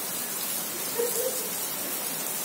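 Steady rain falls in the village of Rangar Pindi, a soft, even hiss of drops with no voices over it.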